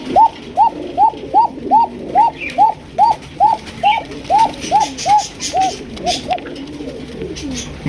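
A pair of black Lakha pigeons coos in a steady, evenly spaced series of about a dozen rolling calls, close and clear over a faint background hum.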